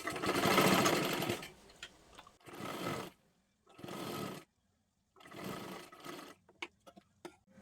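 A sewing machine stitches a sleeve onto a kurti top in several close, loud bursts of whirring, separated by short pauses, with small clicks and handling noises between runs.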